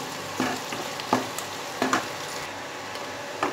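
Catla fish head curry frying in a pan as a small splash of water goes in, a soft steady sizzle broken by short scraping stirs at regular intervals of under a second, with no voices.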